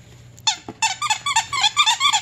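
80s-themed BarkBox dog chew toy being squeezed, giving a quick series of bright, close rubbery squeaks in an uneven rhythm after a brief quiet start.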